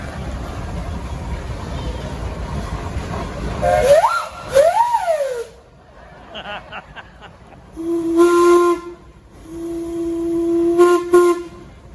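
Steam engine whistles sound at a steam and threshing show in Sycamore, Illinois: a rising and falling wail, then two long steady blasts after a pause, loud and somewhat distant over a rumbling background.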